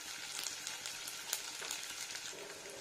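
Onion, ginger and garlic fry in a pan, a faint, even hissing sizzle with a few small pops and light stirring touches throughout the short stretch.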